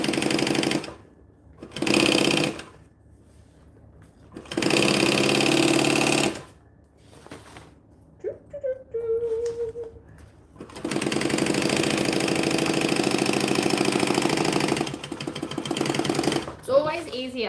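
A sewing machine runs in several bursts of rapid, buzzing stitching through fabric lining, loud and close, with short pauses between runs and some talking over the gaps.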